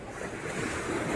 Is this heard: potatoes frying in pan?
no